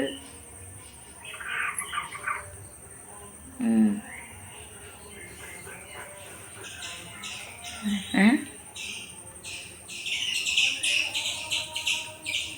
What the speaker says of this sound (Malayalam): ഇപ്പം അതിൻ്റെ കൂടെ കിളികളുടെ സൗണ്ട്